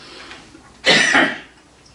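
A single loud cough from a lecturer recovering from a lingering chest cold, a sharp burst that fades over about half a second in an otherwise quiet room.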